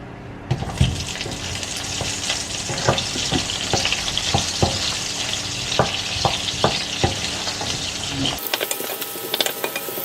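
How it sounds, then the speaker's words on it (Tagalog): Onion sautéing in a pan for a salmon bone sinigang broth, a steady close sizzle broken by repeated scraping and stirring clicks, then thinning abruptly near the end; nobody talks. "So the next step is we are going to saute our onion."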